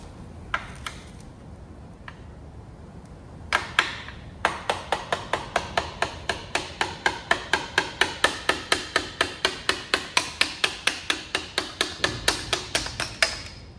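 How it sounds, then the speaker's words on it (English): Steady, forceful hammer blows strike metal over and over in a regular rhythm as an axle is hammered out of an electric dirt bike's swingarm, preceded by a few scattered lighter taps, with no talking. "we're just gonna try and hammer this axle out"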